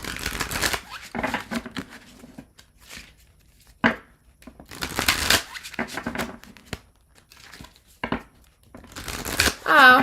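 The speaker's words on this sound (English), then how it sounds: "I'm going to shuffle" Tarot cards are shuffled in quick riffled bursts, separated by pauses, with a person talking in between.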